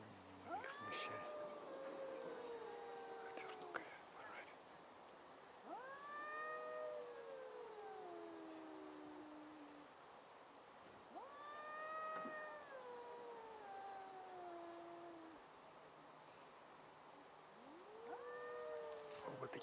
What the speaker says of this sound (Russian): Вот такие холеные домашние коты, странно.